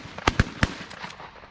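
Three sharp shotgun blasts ring out in quick succession during a dove hunt, close and loud, followed by fainter echoing reports.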